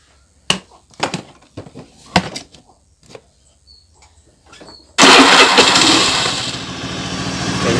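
A Honda Beat FI scooter engine with a fault that makes it sputter and stall under throttle is cranked and starts with a sudden loud catch, then idles roughly and steadily, close by, after a few quiet clicks and handling noises.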